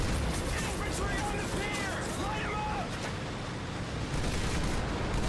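Battle sounds from the World War II shooter Medal of Honor: Pacific Assault: dense gunfire and explosive blasts form a loud, continuous roar, with whistling sweeps and crackling bursts throughout.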